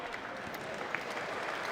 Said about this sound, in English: the crowd appreciative in their applause